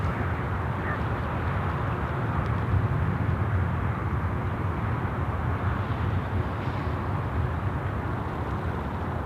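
A jet arriving from Melbourne touches down at Sydney Airport, a broad, steady roar of engine and rushing air holding constant throughout at fairly high level, with no voices.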